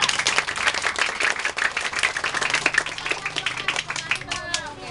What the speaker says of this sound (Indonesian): Seberapa bagus tepuk tangannya, seberapa bagus dramanya.